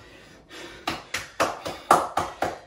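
Rhythmic forceful exhales during a full-body home workout with a soccer ball, about eight sharp breaths in a steady beat, close and fairly loud.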